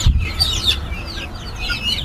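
Golashila sonali hybrid chickens at a poultry market, among other fowl for sale, cluck and chirp close by in a busy, overlapping chorus with no speech.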